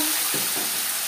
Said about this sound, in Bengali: দিয়ে দিলাম গোটা জিরে